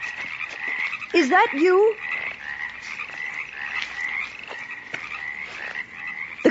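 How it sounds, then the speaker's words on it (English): A steady chorus of frogs croaking and crickets chirping trills in the background at moderate volume near a ravine, while a voice speaks briefly over it. "The crickets and frogs"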